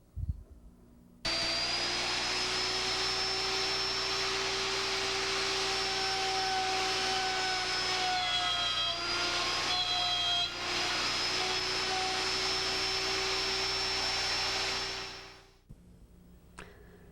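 A plunge router with a spiral bit cuts a mortise in wood, a steady loud whine holding for about fourteen seconds with a brief dip in pitch midway, then spinning down to quiet.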